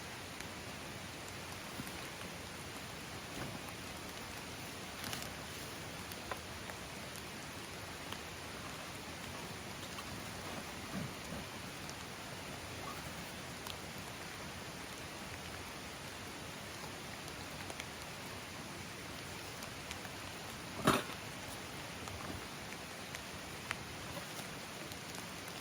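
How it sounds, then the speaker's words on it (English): Steady, diffuse rain falling in a forest during a hike, an even soft hiss throughout with an occasional louder drop or tap, no voices. "the rain starts getting too bad. But it's been raining up here for about 4 weeks now."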